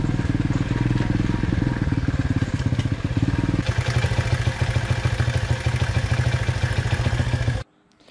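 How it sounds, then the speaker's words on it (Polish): A Loncin 125 motorcycle engine runs with a loose, rattling timing chain that goes slack when oil pressure is lost. A dense, continuous mechanical clatter sits over a steady engine drone, close and loud, then cuts off abruptly near the end. "Łańcuszek strasznie słychać"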